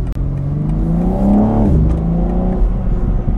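A BMW M4 revs hard and loud as it accelerates, its deep exhaust note cracking, rising and then dropping, close by and continuous.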